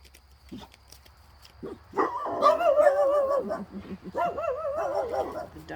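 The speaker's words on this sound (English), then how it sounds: "The dogs are feeling a little ruthless right now." Several dogs vocalize near the microphone in a home, a run of yipping, whimpering barks with pitch wobbles that starts suddenly and continues in bursts to the end.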